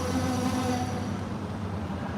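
Steady low rumble of a train at Union Station in Los Angeles, a continuous droning hum with a faint high whine running throughout, moderately distant and unbroken by voices.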